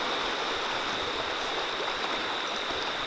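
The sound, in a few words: river flowing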